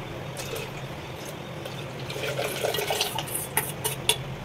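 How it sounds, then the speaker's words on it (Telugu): Jaggery water pours into tamarind juice while Ugadi pachadi is being made, a soft trickle that builds into brief splashy bursts toward the end, close and fairly quiet. "ఇప్పుడు దీంట్లోనే ఈ బెల్లం వాటర్ పోసుకుంటున్నాను."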